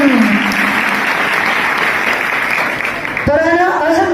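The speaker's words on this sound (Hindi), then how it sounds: "के जलाल के लिए जोरदार ताली बजा दी" A crowd at a religious meeting applauds heartily, a thick, continuous wash of clapping that fades slightly before a voice cuts in at the end.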